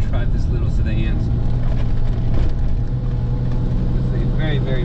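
Continuous engine drone and road roar fill the cabin of a 1988 BMW M5 E28 sedan being driven, with a voice speaking intermittently over the steady noise.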